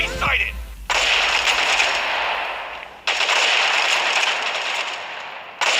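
Rapid automatic gunfire in the World War II shooter World War Heroes comes in long sustained bursts, loud and close, broken by brief pauses.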